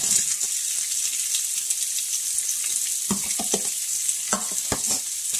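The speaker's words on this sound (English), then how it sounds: "dump the ground beef" Already-cooked ground beef sizzles steadily in an oiled frying pan, with a constant bright crackle and a series of scraping, clacking stirs near the end, close and with no talk.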